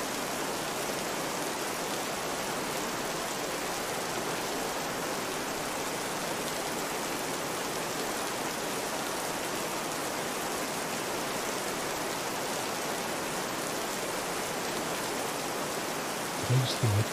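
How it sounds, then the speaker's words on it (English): Steady rain in the video game This Land Is My Land hisses evenly as a soft, continuous wash of noise, with a brief faint knock near the end. "I'll wait until the rain stops"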